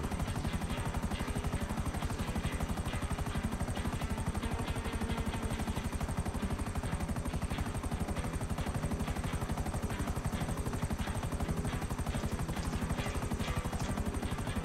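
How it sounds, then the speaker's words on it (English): Helicopter in GTA Online flying steadily, a loud continuous rotor chop and engine whine filling the whole stretch without pause. "This is a helicopter this time."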